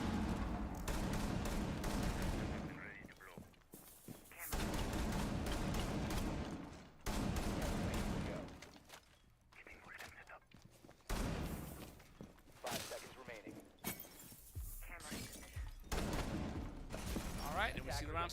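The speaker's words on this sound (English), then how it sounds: "See them shooting out some of that so that way they have an area to shoot from" Rainbow Six Siege playoff match between MRH and SWH Mustangs, with bursts of gunfire tearing through walls in heavy, dense volleys that come and go across the stretch, broken by quieter gaps, no talk.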